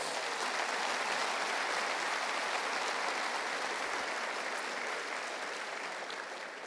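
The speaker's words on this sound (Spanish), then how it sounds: "Dale un fuerte aplauso al Señor." A church congregation gives a loud, sustained round of applause, a thick and uniform clapping roar that holds steady throughout and eases slightly near the end, with no talking over it.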